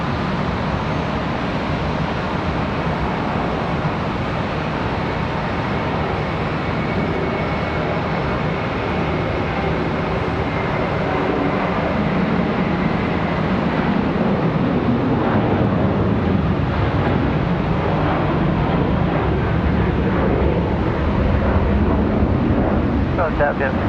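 A plane lands on runway 36 left at Charlotte Douglas airport, its engine roaring steadily and loudly for the whole stretch, broadband and rumbling, with wind buffeting the microphone and a radio voice faintly underneath.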